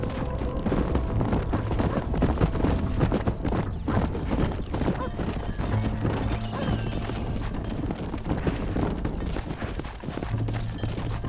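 Horse hooves clip-clopping in Red Dead Redemption, a continuous irregular patter of hoofbeats with occasional engine-like tonal drones and distant bangs, steady and moderately close throughout.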